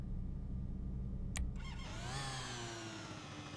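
A 50cc moped engine in a video game roleplay starts up with a sharp click, then settles into a steady, thin buzzing idle with a rising whine, close and continuous.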